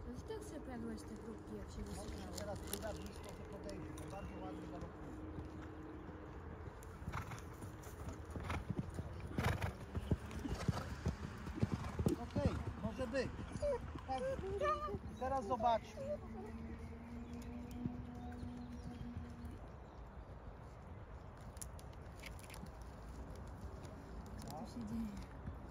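Horse hooves during a riding lesson, steady clip-clop of a cantering horse with occasional snorts, fairly close, under an instructor's spoken directions and some bird calls in the background.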